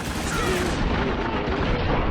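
Sustained helicopter gunfire in the video game Spec Ops: The Line, a loud, dense roar of shots and explosions that runs through the whole stretch without a break.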